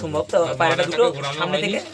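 Madras pigeons cooing up close, a series of soft, throaty rolling coos following one another over a couple of seconds.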